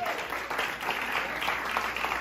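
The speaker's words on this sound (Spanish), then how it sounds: "¡Un aplauso a Dominicana!" Brief burst of audience applause at a live comedy show, dense clapping throughout for about two seconds.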